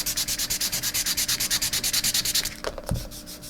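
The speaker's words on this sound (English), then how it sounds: "and then I just sand it down" Sandpaper rubbed in quick, steady back-and-forth strokes over a sealer bubble on an acrylic painting, a close, rhythmic scratching that stops partway, then a soft brush-off thump.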